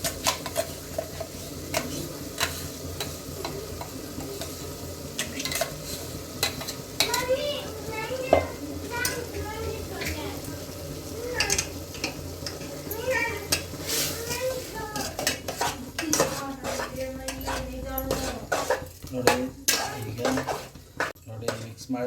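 Mushroom curry with tomato, ginger and garlic frying and sizzling in a pan as it is stirred, with frequent utensil clinks and scrapes against the pan and a voice talking at times over the cooking.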